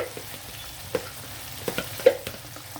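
Freshly grated raw mango and garlic pickle fry gently in oil in a kadai, with a soft low sizzle broken by a few sharp spoon taps and scrapes, close and brief.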